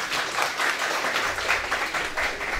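Applause at a university fundraising evening, a dense crowd of clapping hands in a continuous, slightly pulsing wash that carries steadily through the short stretch without speech.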